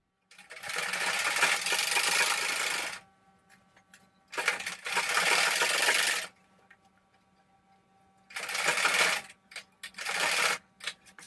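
A sewing machine stitches a neck strip on a kurti in four bursts of rapid mechanical whirring, each lasting one to three seconds, separated by quiet pauses with faint handling clicks.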